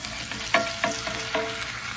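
Smash burger patties sizzle and spit in a cast iron skillet, a close, steady frying hiss broken by a few sharp crackling pops.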